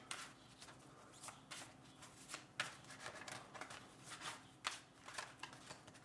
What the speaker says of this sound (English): pulling the Crow Tarot out of the deck. Let's give it a little shuffle here